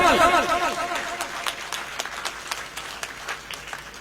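Audience applause at a poetry gathering welcomes the poet Afshan Kanwal from Bhakkar. A voice is briefly heard at the start, then scattered claps follow, loose and thinning, with faint crowd murmur.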